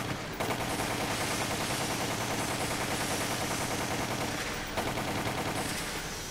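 Rapid gunfire from a Resident Evil: The Umbrella Chronicles shooter game crackles in dense, nearly continuous bursts, loud and close, with a brief break before firing resumes.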